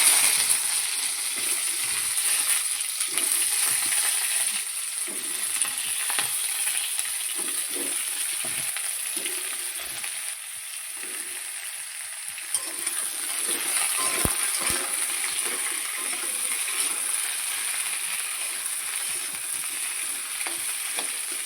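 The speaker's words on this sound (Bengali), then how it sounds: "কড়াই গরম হয়ে গেছে, আলুগুলো দেবো।" Potatoes sizzle and crackle steadily in hot oil in a wok, a dense broadband frying hiss running throughout with occasional stirring clinks, close and fairly loud.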